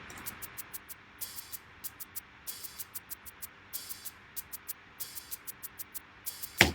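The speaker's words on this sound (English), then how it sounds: "those shaker and hi-hat sounds like this." A highlife praise groove of crisp hi-hat ticks and shaker bursts plays alone in a steady, even rhythm, with brighter shaker swells recurring every second or so and the pattern staying light and moderately quiet.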